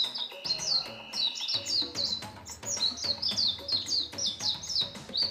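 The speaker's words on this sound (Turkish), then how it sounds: "Çok kuş sesi var." Birds chirp and tweet repeatedly in bright, quick bursts throughout, several calls overlapping against a soft background rumble.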